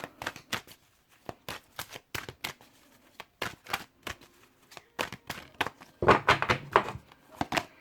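Earth Magic oracle cards being shuffled by hand nearby, a run of crisp card slaps and riffles in quick bursts, building to a denser, louder flurry near the end.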